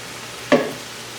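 A single short burst of vegetables hitting a hot pot for a vegan orange chicken and chow mein dinner, a brief sizzle and scrape that quickly fades into quiet.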